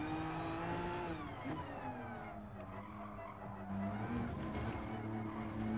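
A steady, high engine whine with shifting pitch that rises and falls through gear changes, continuous and fairly loud: a racing car at speed in the video game Gran Turismo Sport.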